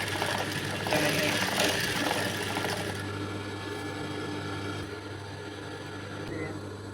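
A sewing machine stitching back and forth over torn cloth runs with a steady mechanical whir and low hum, busier and louder at first before settling into a smoother drone, with a voice speaking over it.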